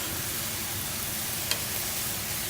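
Mushrooms sizzling in a little olive oil in a pan, a steady close hiss of frying with one faint clink partway through.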